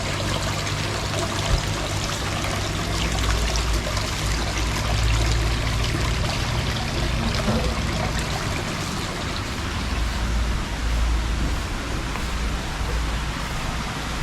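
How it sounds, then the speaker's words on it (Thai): Water from a small indoor waterfall in a Chiang Mai cafe rushes in an even, unbroken trickle, loud and close, with a low hum beneath it and no talking. "ก็จะมีน้ำตกเล็กๆนะคะเข้ามามุมนี้แบบสดชื่นมากเลย"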